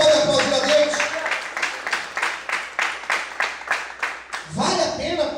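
A church congregation applauds God during a Portuguese-language sermon, many hands clapping in a steady, rhythmic beat that fills the room and then gives way to the preacher's voice.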